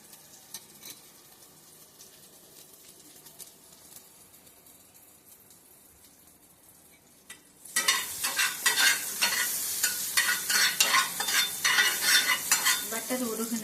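Butter melting in a pan for an omelette: a quiet start with faint stirring gives way to a sudden loud, bright sizzle that keeps crackling steadily to the end.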